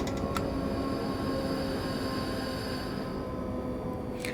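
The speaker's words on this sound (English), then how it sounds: "So Sticky Rice, is this train standard with Train Simulator" A train runs in the video game Train Simulator with a steady, loud rumbling drone of engine and rolling wheels, continuous throughout with faint higher whines and no voices.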